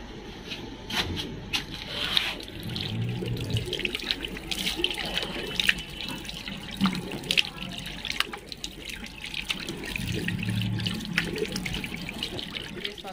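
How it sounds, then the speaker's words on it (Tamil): Tap water runs steadily into a sink while someone washes their face, with close splashing and dripping throughout and faint voices in the background. "ஃபேஸ் வாஷ் பண்ணுறேன்."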